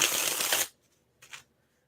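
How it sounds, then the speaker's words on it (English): Tarot cards are shuffled in a dense, crisp riffling burst for under a second, followed by quiet and one short, faint flutter of card handling. "I just have to shuffle 3 times and I should be good"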